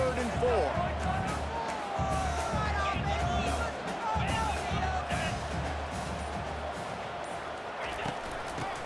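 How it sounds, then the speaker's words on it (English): Stadium crowd roar in EA Sports College Football 25 on a third-and-four play, a sustained loud wash of cheering with a broadcast commentator talking over it throughout. "the noise from this crowd on 3rd and 4"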